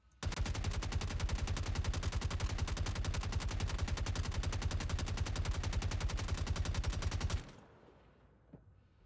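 In the video game Star Citizen, a long, rapid burst of automatic gunfire hammers a ship door open. The close, loud, evenly spaced shots run for about seven seconds, then cut off into near silence.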